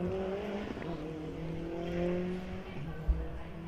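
Race cars running a hill climb course, engines droning at a distance with a brief revving rise and a short thump near the end, steady and moderately faint.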